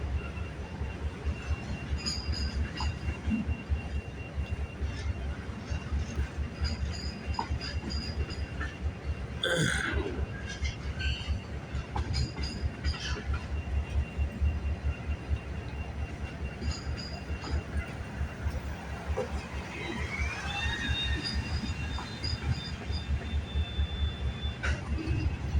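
CPKC freight train rolling past near Kinnear Yard in Hamilton, a steady low rumble of cars with faint squeals and a brief sharper burst midway, continuous and fairly distant throughout.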